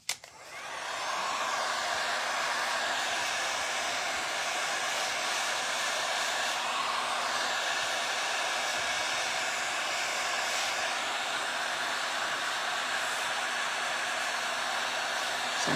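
A hair dryer drying lavender blows in a steady, loud, continuous whoosh that starts abruptly and holds unchanged to the end, with no talking.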